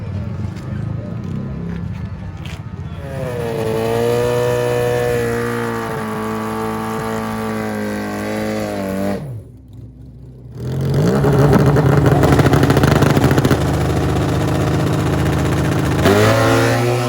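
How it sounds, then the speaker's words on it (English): Drag racing grudge motorcycle engines rev hard and wind up through the gears, loud and close, with a brief drop before another roaring pull. "seeing just how far they can push these motorcycles."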